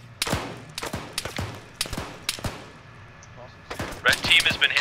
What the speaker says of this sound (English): Scal is taking heavy fire.